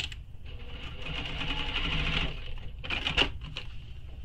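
Sewing machine stitching a shoulder bag, running in a continuous whirring burst for about two seconds, then a pause and a few short, sharp bursts of stitching, close and clear.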